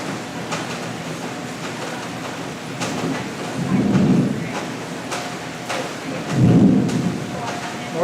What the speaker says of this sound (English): thunder booming.